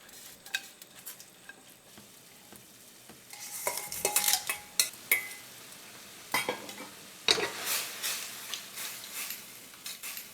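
Clams and sun-dried tomatoes sizzle with pasta in a frying pan for a vongole dish, a steady crackle broken by louder clinks and scrapes of stirring utensils against the pan.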